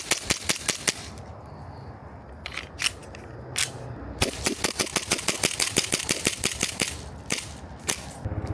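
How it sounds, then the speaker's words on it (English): A Sig Sauer Emperor Scorpion 1911 CO2 BB pistol fires in quick bursts outdoors over dirt, a long string of sharp close pops with brief gaps between volleys. "a mag dump right here in the dirt"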